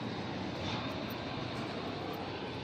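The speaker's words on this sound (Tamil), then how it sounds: "ஃப்ளைட்லாம் சூப்பராக லேண்ட் ஆகிட்டுருக்கு." Airliner landing near the Dubai Mall and Burj Khalifa, a steady broadband jet roar held at constant strength throughout, moderately distant, with no voices over it.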